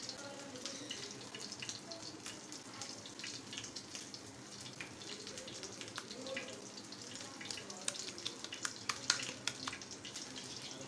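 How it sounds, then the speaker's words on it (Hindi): Chapli kebabs fry in a pan with a steady, close crackling sizzle full of small popping spatters that grow a little busier toward the end, with no talking. "ऐसे ही हम बाकी के कबाब भी फ्राई करेंगे"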